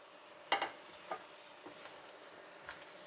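Vegetables for chicken macaroni drop into a hot frying pan with a sharp hiss, followed by a few softer sizzles and stirring sounds; quiet and close.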